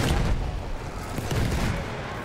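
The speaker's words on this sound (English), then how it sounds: "Field gun." A field gun booms in Battlefield 1 amid continuous battlefield din, with heavy rumbling blasts and scattered gunfire blending into a dense, loud roar.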